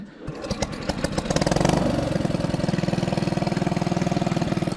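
Homemade motorcycle built around a tractor engine, cranked and started with the choke on, quickly catching and settling into a loud, close, rapid, even idle chug with no talking.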